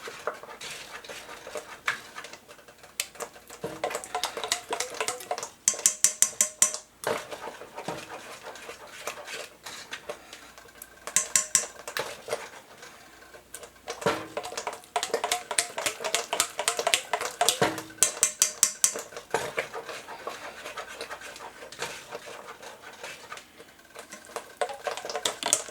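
A spoon or whisk stirs a hot mixture and eggs for lemon meringue pie, with rapid clinking and scraping against the pot in busy bursts, close and steady with brief pauses.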